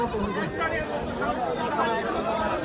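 A castrated male goat bleats amid a busy crowd at a livestock market, its wavering cries rising over constant chatter and market hubbub nearby.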